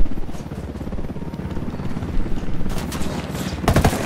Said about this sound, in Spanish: El helicóptero nos está disparando.